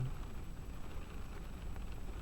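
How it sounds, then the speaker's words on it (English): Steady, light rain patters on a parked car, heard from inside as a soft, even hiss with no voices. "It's just been perpetual rainfall, just steady."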